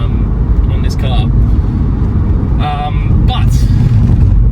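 A 2010 Škoda Octavia VRS TDI diesel running with uneven, stuttering power delivery, heard as a loud continuous low engine rumble from inside the car, with brief higher sounds popping up over it.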